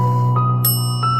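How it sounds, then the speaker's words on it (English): Bright bell dings from a haunted doll device, a sustained ringing tone struck again in a few quick chimes with a lingering metallic decay, close and fairly loud. "And the bell goes off."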